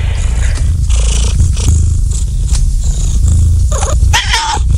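A cat purrs loudly and very close, a continuous deep rumbling with a few brief higher sounds near the end.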